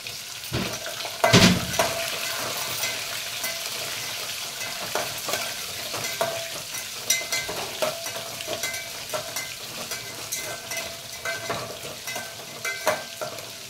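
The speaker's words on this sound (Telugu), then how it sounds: "ఉల్లిపాయలు మంచిగా ఫ్రై అవ్వాలి. ఉల్లిపాయలు ఫ్రై అయ్యాయి." Onions frying in a pan after green chilies for a Telugu masala rice dish, with steady close sizzling and repeated scraping stirs and light utensil clinks throughout.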